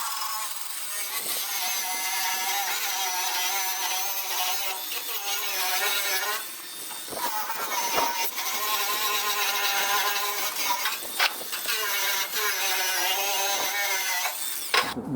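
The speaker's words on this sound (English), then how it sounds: "grind all my tacks down so that I get all nice clean restarts" An angle grinder grinds down tack welds on a steel dump trailer ahead of welding with 7018 rod, a steady, loud, high-pitched whine with brief dips where the disc leaves the metal.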